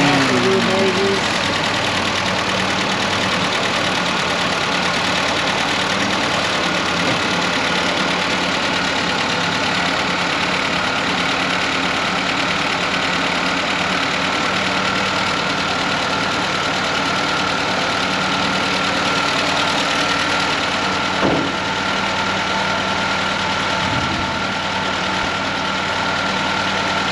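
A 1946 Willys CJ2A jeep with a 134 cubic inch L134 L-head four-cylinder engine idles steadily and evenly nearby. The low, constant hum holds for nearly half a minute with only a brief bump partway through.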